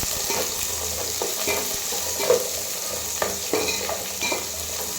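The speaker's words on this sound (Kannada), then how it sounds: "ಫ್ರೈ ಮಾಡಿ." Cloves and pepper frying in oil over a medium gas flame for a Bidar-style chicken gravy: a steady close sizzle with occasional stirring scrapes and a few brief louder pops, no talking.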